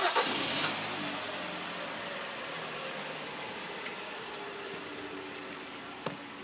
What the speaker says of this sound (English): Parking lights come on and the engine cranks.